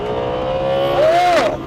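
Audi R8 V10 Performance 2022 with a 5.2-litre V10 in dynamic mode and the back window down, a loud, close engine note that rises sharply in pitch as it revs, then drops off briefly at the end.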